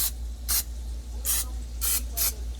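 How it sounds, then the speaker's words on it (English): Olive oil spray hissing in short bursts over floured chicken pieces before air frying, four or five quick close spritzes with brief pauses between, above a low steady hum. "we're going to take our olive oil spray. And we got to get these flour spots"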